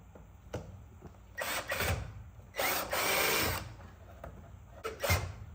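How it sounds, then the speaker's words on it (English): Several short bursts of drilling into a plastic truck bumper cover, each a few seconds long with pauses between, close and moderately loud, with no voices. "I hate drilling holes in factory parts."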